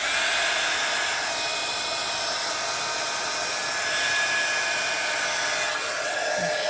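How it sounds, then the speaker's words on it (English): A heat tool blows steadily to dry acrylic and chalk paint for a faux rust effect, giving a loud, continuous close-up whir with a high airy hiss that holds through the whole stretch. "So now I'm going to take my heat tool"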